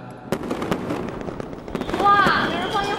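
Fireworks go off outdoors at a gathering, a series of sharp cracks and rumbling bursts with a rising whistle-like crackle toward the end, while people talk over them.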